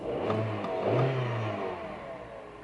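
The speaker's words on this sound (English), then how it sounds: "Let's just give it a couple of revs." A 2009 Mini First 1.4 hatchback engine revs twice in quick succession, the second rev longer, then settles back to a steady idle close by.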